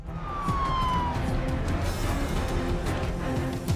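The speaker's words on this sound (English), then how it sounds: "Ramsey had an ambulance called to the restaurant" An ambulance siren wails outside a restaurant during a dinner service, a steady loud tone sweeping through traffic and street noise with no talk.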